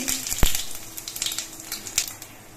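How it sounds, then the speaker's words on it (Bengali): Whole cumin seeds crackle in hot mustard oil in a wok, making a steady close sizzle broken by sharp pops and spits. "সর্ষের তেলটা গরম হয়ে যাওয়ার পর এর মধ্যে অল্প করে একটু গোটা জিরে দিয়ে দিচ্ছি"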